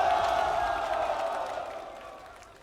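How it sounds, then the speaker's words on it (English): Crowd cheering at a StarCraft esports match in the China Team Championship, a broad steady roar of a large audience that slowly fades over a few seconds, with no clear speech over it. "Firefly gets a big cheer from the crowd"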